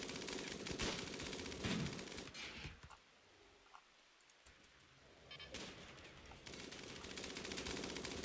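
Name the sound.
gunfire in RimWorld video game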